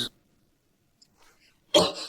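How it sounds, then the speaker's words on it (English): A single sharp cough bursts out near the end after near silence, with a faint breathy sound briefly before it. "Sorry, man, I got a cough."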